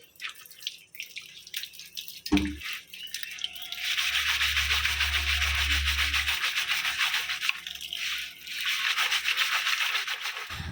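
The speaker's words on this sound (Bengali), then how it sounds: "এরপরে এই আমগুলোকে ধুয়ে নেব" Mangoes from a home tree being washed with water for pickle, a splash and a knock, then a continuous rushing stream of tap water with rubbing and dripping, close and steady, dipping briefly near the end.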